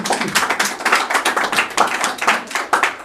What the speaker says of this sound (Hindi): भाई के लिए जोरदार ताली